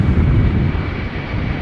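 A KLM passenger airliner at Schiphol Airport, a steady broadband jet roar dominated by low rumble, loud and continuous throughout with no talking.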